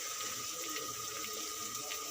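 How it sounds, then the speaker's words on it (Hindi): Water is poured into a spiced chicken curry masala of turmeric and roasted cumin, a steady, soft, continuous splashing pour with no talk over it. "साथ थोड़ा सा पानी ऐड करेंगे"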